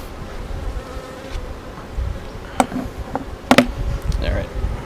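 A colony of agitated honeybees in an opened, recently queenless hive buzzes as a steady, close drone, with a few sharp knocks and a muffled voice partway through.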